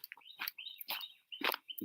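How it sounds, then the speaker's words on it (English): A loud bird chirping outdoors, a quick series of sharp, bright chirps and trills, close and clear. "That was a loud bird."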